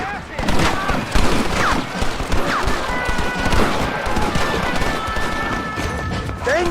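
Gunfire in the Western video game Red Dead Redemption, repeated shots and bursts of a firefight crackling steadily across the scene amid game effects and shouting voices.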